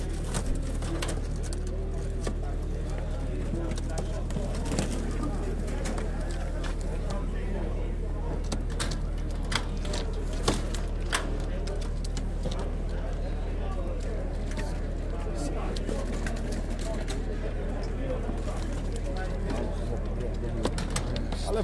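Pigeons coo steadily in cages at an outdoor pigeon market in Grajewo, Poland, a soft repeated cooing under constant murmur of people talking and a low background hum.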